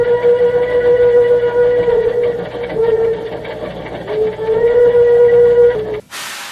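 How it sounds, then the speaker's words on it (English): A steam locomotive whistle sounds one long, loud, steady tone with slight wavers, then breaks off into a sharp hissing burst of steam at the end. "I let off a huge burst of steam and blew my whistle long and hard"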